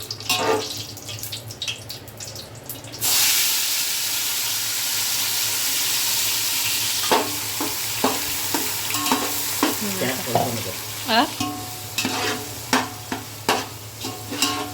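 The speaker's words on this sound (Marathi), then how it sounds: "मोहरी चांगली तडतडली." Mustard seeds, along with curry leaves, crackle in hot oil in a home kitchen, a loud continuous sizzle with sharp popping spatters and stirring clatter near the end.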